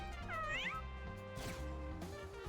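An angry cat meows loudly in the video game Mewgenics, giving several rising, wavering yowls followed by a brief thwack, then a shorter cry near the end.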